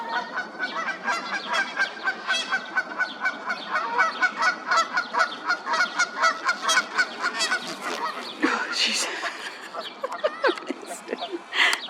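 Canada geese honking repeatedly while driving an intruder off their territory outdoors in spring, a rapid series of loud, close nasal honks, with a burst of flapping and squawks near the end.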